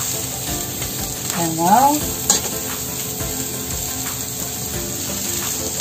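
Bitter melon hitting a hot oiled wok sets off a steady, close hiss and crackle of frying, with some stirring and a brief clink of utensil against metal; a voice speaks a couple of words over it.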